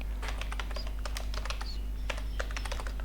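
Dense, rapid keystrokes on a computer keyboard as a name is typed into a sign-up form, with irregular clusters of clicks and brief pauses, close and clear over a low steady hum.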